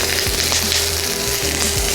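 Eggs and onions frying in a hot pan for Hong Kong-style Singapore noodles, a loud dense sizzle throughout with a few low thumps of stirring.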